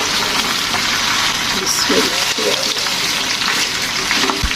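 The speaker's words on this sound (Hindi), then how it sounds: "देखिए ऑयल गर्म हो गया, अब मैं इस भिंडियों को डालती हूँ, भिंडियाँ ब्राउन करते हैं।" Okra dropped into hot oil for a bhindi chicken dish, giving a steady, close, hissing sizzle throughout, with a faint voice in the background.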